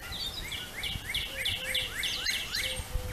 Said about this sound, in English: Even the birds sing.